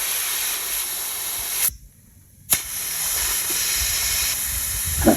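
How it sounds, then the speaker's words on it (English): A car tyre being deflated for corrugated Pilbara roads, a loud, steady close hiss of escaping air that drops out briefly and then resumes just as strong. "don't know if you can hear on there that it's actually coming out quite quickly, the air."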